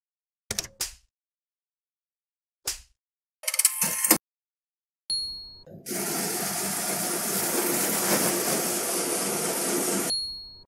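A BCA ATM takes in deposited banknotes: a few short clicks and mechanical clunks, then a sustained whirring rush of notes being counted for about five seconds before stopping.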